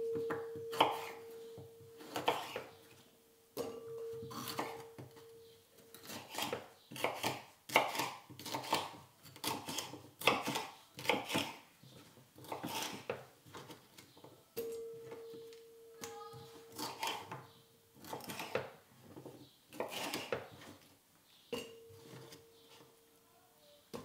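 A knife chops vegetables into 1-inch squares for tikka masala, giving steady rhythmic knocks on a cutting board with brief pauses between runs, close and crisp, with a faint background tone.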